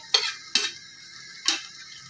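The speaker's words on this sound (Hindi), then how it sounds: "अब मैं प्याज शामिल करूंगी और प्याज को फ्राई करूंगी।" Onions frying in a cup of oil in a cooking pot for pulao, with three brief scraping stir strokes of a spoon against the pot over a faint sizzle, close and alone.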